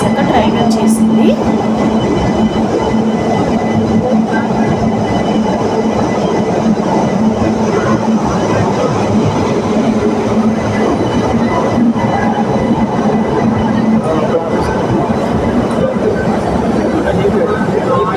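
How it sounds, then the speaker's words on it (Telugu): Train pulling into Tirupati railway station, with a loud, steady rumble of rolling wheels, rail clatter and occasional squeals that go on without a break, while voices are heard on the platform. "ఇంకా ఒక 20 మినిట్స్ వెయిట్ చేశాక ట్రైన్ వచ్చేసింది."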